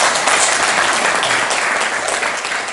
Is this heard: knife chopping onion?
no